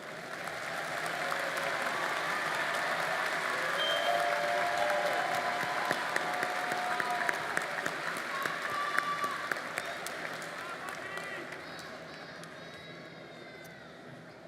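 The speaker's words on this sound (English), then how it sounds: "Let's applaud the graduate students" Sustained applause from a large crowd at a spring university commencement ceremony, steady clapping with scattered cheers, lasting throughout and slowly thinning near the end.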